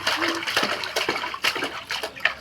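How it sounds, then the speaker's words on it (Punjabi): A baby plays in bath water, making a quick run of close, irregular splashes and sloshes that carry on throughout without any voices. "ਸੱਚੀ ਗੱਲ ਆ ਬੱਚੇ ਪਾਣੀ 'ਚ ਬਹੁਤ ਮਸਤ ਹੁੰਦੇ ਆ"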